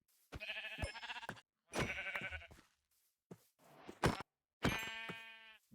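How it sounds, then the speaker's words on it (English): Several sheep bleats from a Minecraft game in a row, clear, close, and wavering, separated by short silences; the last one is long and drawn out. "Here I find some more sheep."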